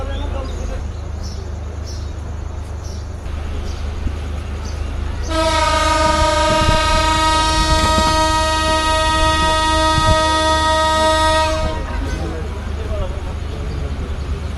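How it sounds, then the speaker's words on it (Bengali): A train horn sounds long and loud over the rumble of a train departing Rajshahi station, a steady blast of about six seconds, with voices and station noise around it. "হুইসেল বাজিয়ে লোকোমাস্টার সাহেব ট্রেন ছেড়ে দিলেন রাজশাহী থেকে"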